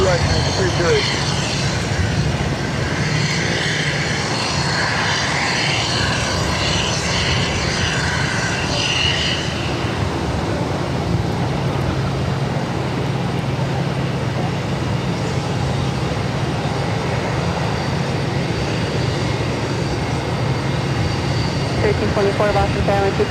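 An airliner takes off from runway 22 right at Boston Logan, its broad engine roar steady and fairly loud for the whole stretch, with a brighter whine easing off partway through and faint radio voices under it.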